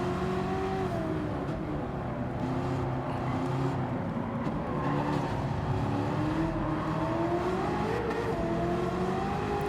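Race car engines in Gran Turismo 7 drone and rev continuously, including a Peugeot, with shifting engine pitch as the cars speed along, loud and sustained, with no talk over them.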